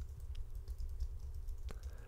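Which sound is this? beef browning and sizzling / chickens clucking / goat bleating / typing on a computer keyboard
typing on a computer keyboard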